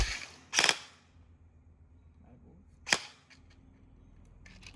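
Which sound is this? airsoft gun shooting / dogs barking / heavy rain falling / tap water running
airsoft gun shooting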